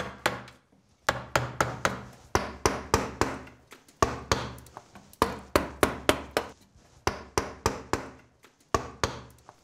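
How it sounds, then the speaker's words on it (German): A sculptor drives a chisel into wood with a mallet while roughing out a carnival mask, a crisp rapid series of sharp knocks in uneven bursts, close and clear with short pauses between runs. "Der Bildhauer schlägt die grobe Anlage aus dem Holz."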